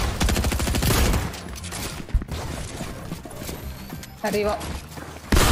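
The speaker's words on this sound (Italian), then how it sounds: "Da dove cazzo mi arrivano i colpi?" Rapid gunfire bursts in the video game Fortnite, loud and repeated during the first half and again near the end, mixed with other game effects while someone speaks briefly.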